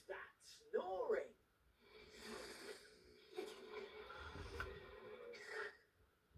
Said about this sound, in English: Who's that snoring?